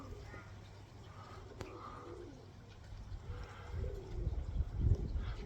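Racing pigeons in a stock loft cooing softly at a distance, low murmuring calls over a steady low hum, with faint movement noises growing slightly louder toward the end.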